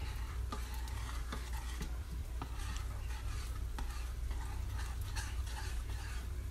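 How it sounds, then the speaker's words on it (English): Parmesan cheese being stirred into chicken penne vodka in a pan, a soft continuous scraping and light sizzle with faint clicks of the utensil, close and quiet with no talking. "you want to add a cup of Parmesan cheese. And then stir that in there."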